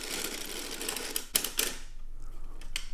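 A circular sock knitting machine is hand-cranked with a 1.5 pound weight hanging from the fabric, producing a close run of rapid mechanical clicking and clattering that pauses briefly and then resumes.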